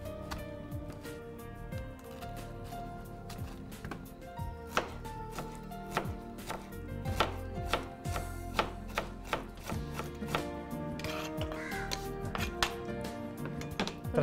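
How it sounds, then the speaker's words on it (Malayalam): Cabbage is chopped on a board in a restaurant kitchen, a quick run of sharp knife strikes that grows denser and more insistent, with a low hum underneath. "കേബേജ് ചെറുതാക്കി മുറിച്ചിടാം"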